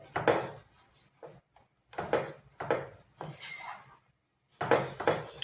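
Small lumps of jaggery are crushed fine in a kitchen vessel for sesame ladoo: several close bursts of scraping, grinding and knocking against metal, separated by short quiet pauses.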